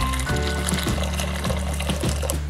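Water boiling in a pot, a steady rolling bubble and hiss over a low hum, with soft rhythmic surges throughout.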